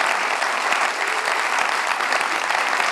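Dense, steady applause from an audience at a business talk, a continuous wash of many hands clapping at even loudness with no voice over it.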